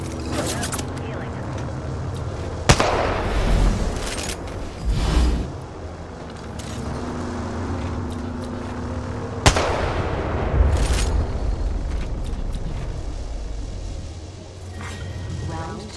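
Gunfire in a battle royale shooter: a few sharp, loud shots and bursts stand out over steady game noise, while a player talks throughout.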